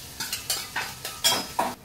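Garlic, curry leaves and green chillies are stirred in a hot pan with onion, giving a series of sharp scraping stirs over a soft sizzle, close and fairly loud, about six strokes in quick succession.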